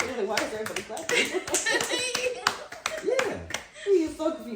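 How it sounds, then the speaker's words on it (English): A group claps in scattered, uneven bursts close by while people keep talking over and between the claps. "Why are you clapping?"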